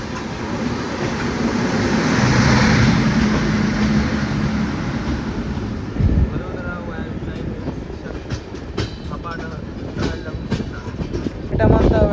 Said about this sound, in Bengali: বন্ধুরা এটা আমাদের ট্রেন ওভারটেক মারছে হাপা নেহরলাগুন স্পেশাল ট্রেনকে।